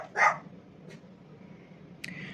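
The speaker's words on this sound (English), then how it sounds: "every time I start talking, the dogs start barking" Dogs barking, one loud close bark followed by a fainter yip and a sharp distant bark, with no one talking.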